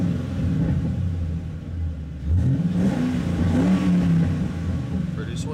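A 2007 Ford Mustang GT engine rumbles steadily, then revs up sharply around the midpoint with rising pitch before settling back, loud and close.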